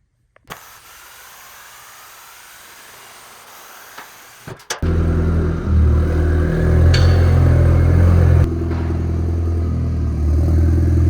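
Audi 1.8T engine running with a Techtonics Tuning downpipe, beginning with quiet clatter before loud exhaust rumble starts near five seconds and holds steady and close, rising briefly as it revs.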